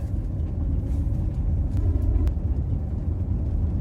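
Steady low engine and road rumble from a 2003-2005 Range Rover being driven, continuous and fairly loud throughout with no talking.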